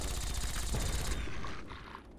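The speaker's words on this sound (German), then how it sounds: "dafür kann ich aber tatsächlich auch die Gauss-Kanone nehmen" Gauss cannon fired at automated turrets in Fallout 3, a dense crackling electric discharge blast that roars for about a second, then a tail of fading mechanical clatter and ringing echoes.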